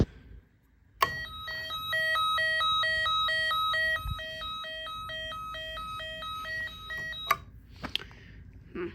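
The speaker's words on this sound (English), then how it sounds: "then we will do the police alarm" A Snap Circuits electronic police alarm sounds steadily for about six seconds, a fast repeating two-tone electronic whoop with a bright, buzzy tone, cutting off abruptly, followed by a few faint clicks in a quiet room.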